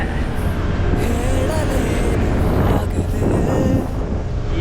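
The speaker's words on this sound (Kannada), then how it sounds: "ತಣ್ಣ ಗಾಳಿ ಬರ್ತೈತೆ" Steady, loud wind buffeting the microphone, a constant rushing roar that masks everything else.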